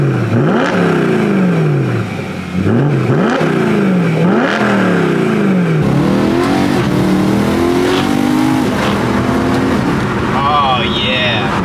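A BMW E90 3 Series engine revs repeatedly, rising and falling in quick, loud sweeps up close, with a few sharper blips and a higher whine toward the end.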